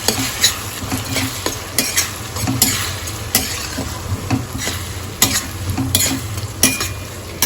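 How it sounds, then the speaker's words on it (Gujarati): Tomatoes and seven or eight whole garlic cloves stirred in a hot pan for a Mehsana-style tuver totha gravy, a close, loud sizzle with sharp spoon-on-pan clacks every second or so, no voices. "આપણે ટામેટા નાખી દઈશું અમે અને જે સાત આઠ કડી લસણ રાખ્યું છે આખું જ નાખી દઈશું અંદર સારી રીતે મિક્સ કરી દઈશું"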